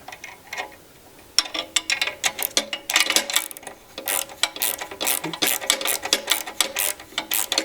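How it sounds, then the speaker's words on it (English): Rapid bursts of ratchet-wrench clicking come close and fairly loud in uneven runs as a bracket is snugged up on a 2018 BlackHawk Paramotor Lite trike, with no one talking over them. "What Mike will do right now is just snug it up so we can still twist this bracket"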